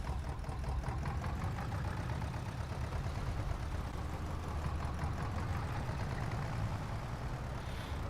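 Running steadily, the Zetor 25 tractor's old four-cylinder engine in Farming Simulator 22 gives a low, continuous throbbing rumble with a fine rhythmic knock, close and unbroken with no talk.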